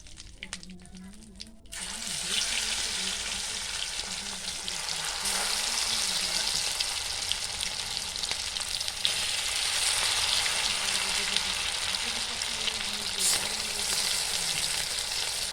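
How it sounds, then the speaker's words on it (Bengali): Chicken pieces for chilli chicken drop into hot oil after a quieter start, setting off a loud, sustained frying hiss that stays steady to the end. "বাকি মাংসগুলো একইভাবে ভেজে নেব"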